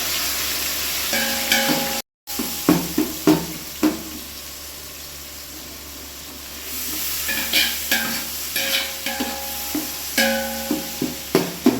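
Tomatoes sauté in a pan under a low sizzle, with repeated spoon scrapes and knocks as they are stirred, a brief quiet pause near the start and no one speaking.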